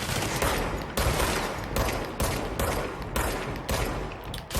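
Rapid gunfire in the video game Control, a dense run of loud close shots in bursts with short gaps between them, nearly continuous through the stretch and no clear speech over it.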